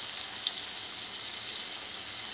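Tomato pieces with turmeric fry in a pan for a chapathi side dish, giving a steady, close hiss of sizzling that runs unbroken and evenly loud the whole time.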